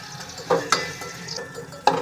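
Ingredients for shahi paneer roast in ghee in a pan, a low steady sizzle broken by a few sharp clinks and scrapes of a spoon stirring against the pan.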